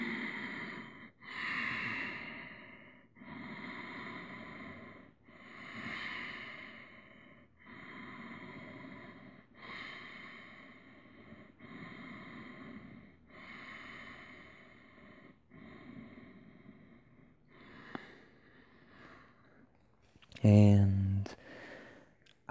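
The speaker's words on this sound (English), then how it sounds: "Just breathe." Slow, audible breaths during a seated yoga forward fold, long inhales and exhales repeating in a calm rhythm, with a sharper louder breath near the end.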